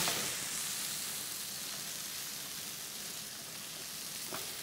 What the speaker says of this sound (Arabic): هون حطينا الكرات والثوم هون شوي الزيت نباتي